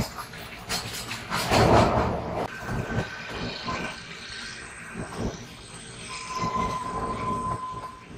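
Kalka–Shimla toy train running on a rail line beside a road, with rumbling wheels, clattering wagons and a sustained wheel squeal, fairly close and continuous without talk.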